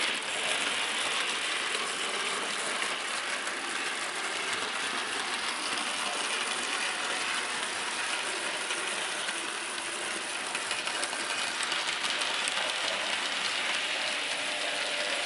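A Hornby model train runs steadily around the track corners, a continuous fine mechanical whirring and clicking of small gears and wheels on rail, even in level with no voices.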